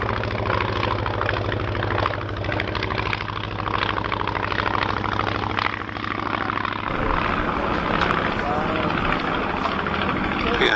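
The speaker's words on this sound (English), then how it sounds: "This is the Lysander, much later design, the one built by Westland Aircraft in '36" A 1936 Westland Lysander flies past at a vintage airshow, its piston engine droning steadily at moderate distance beneath a commentator's voice over the public address.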